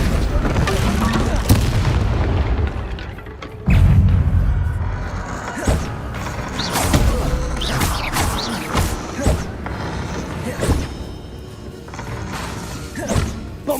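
Bombarda spell explosions in the video game Hogwarts Legacy, heavy booming blasts and thuds recurring through a chaotic fight with crashing impacts and background clatter.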